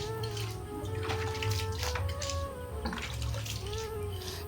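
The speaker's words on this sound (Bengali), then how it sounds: "উঠানটাকে একটু জল ছড়া দিয়ে দিচ্ছি" Water splashing and pattering steadily over a household courtyard floor as it is sprinkled for cleaning, a continuous close wet wash with a low hum underneath.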